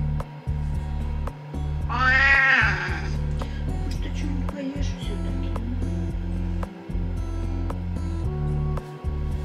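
A cat gives one drawn-out, wavering meow of about a second, close and fairly loud, over a steady pulsing mechanical background noise.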